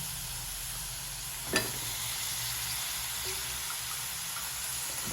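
Drumsticks and field beans go into masala cooking for a fish curry, giving a steady close frying sizzle and hiss with one brief clatter of stirring partway through, no talk.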